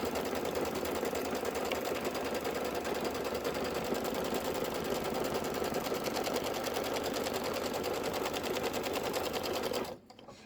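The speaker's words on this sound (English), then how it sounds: "it's just going to be stitching the center mark" A Kimberbell embroidery machine stitches a center mark, its rapid steady needle rhythm running close and continuous for about ten seconds before stopping abruptly.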